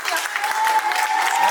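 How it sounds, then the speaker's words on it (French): An audience applauds a dance instructor at a dance class held in an arena, with steady clapping throughout and a faint voice over it. "Vous pouvez lui applaudir, elle vous a bien appris."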